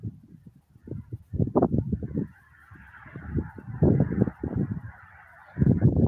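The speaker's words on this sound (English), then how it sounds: "As you can hear, there's birds and stuff." Geese honking outdoors in a peaceful open field, a loud, close flock giving repeated overlapping honks in uneven bursts, with softer higher bird calls running continuously behind them.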